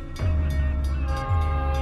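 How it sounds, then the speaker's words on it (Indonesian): A train bears down on a car stopped on the tracks, its horn blaring in two loud low blasts over the rumble of the rail cars. "Ia kemudian berniat bunuh diri dengan membiarkan mobilnya tertabrak kereta"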